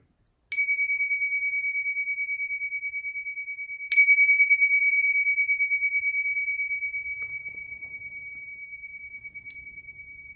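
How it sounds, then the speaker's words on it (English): A meditation bell is struck twice, a few seconds apart. Each strike gives a clear, bright ring that hangs in the air and slowly fades in a quiet room. "So we'll begin with the sound of the bell."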